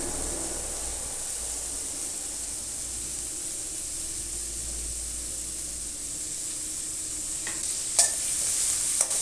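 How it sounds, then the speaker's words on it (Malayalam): Curry leaves and sliced green chillies fry in a pan for a Kerala-style mushroom roast, making a steady, close sizzle with a few stirring clinks near the end. "തണ്ട് കറിവേപ്പില, പിന്നെ 4 പച്ചമുളക് വട്ടത്തിൽ അരിഞ്ഞത് ഇട്ട് കൊടുക്കുവാണ്"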